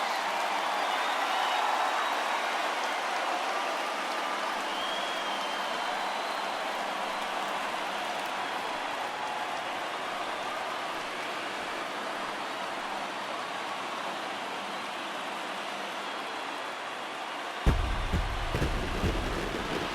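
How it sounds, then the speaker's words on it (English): A stadium crowd in the MLB The Show baseball video game cheers a World Series championship win in front of the home fans, a dense, loud, steady roar that goes on without a break, then a few thumps near the end. "this stadium is rocking right now as they celebrate something they'll remember forever"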